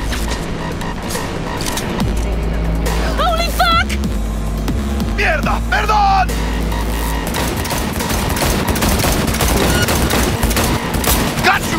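Gunfire during a car chase in the video game Cyberpunk 2077: loud, sustained bursts of shots over engine rumble, with shouting voices and music mixed in.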